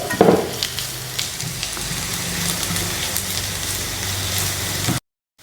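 Onions and spice powders fry and get stirred in a pan for a Kerala chemmeen (prawn) roast, making a close, steady crackling sizzle with a few scraping stirs before cutting off abruptly near the end.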